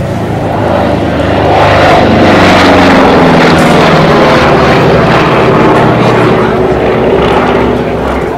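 B-17 Flying Fortress Sally B flying at the Duxford Flying Legends airshow, a loud, steady multi-engine propeller drone that swells slightly and holds throughout, close and continuous.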